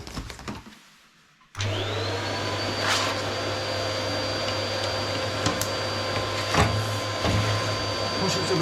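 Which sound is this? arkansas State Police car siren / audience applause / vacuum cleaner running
vacuum cleaner running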